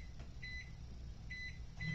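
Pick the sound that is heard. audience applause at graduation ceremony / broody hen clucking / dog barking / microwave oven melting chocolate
microwave oven melting chocolate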